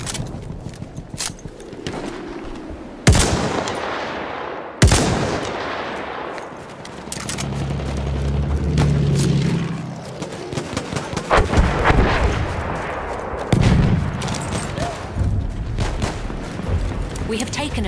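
A World War I battle in a video game: heavy artillery booms, sharp rifle shots and rattling machine-gun fire crowd a dense, loud soundscape, with soldiers shouting in German through the din.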